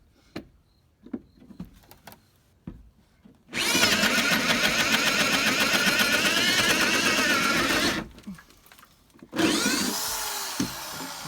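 A power drill boring a hole: after scattered light knocks and handling noises, a loud, close, continuous whine runs for about four seconds, stops, then starts again for a shorter burst.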